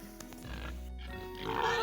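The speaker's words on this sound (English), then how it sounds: "The little pigs have become not so little pigs." Pigs grunting on a homestead, a few close, low oinks and snorts in quick succession, with a louder squealing grunt toward the end.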